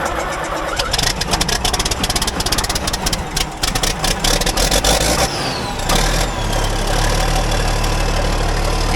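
A makeshift, sketchy homemade vehicle's engine cranks and fires up, then settles into a loud, steady, slightly knocking idle close by, with no talking.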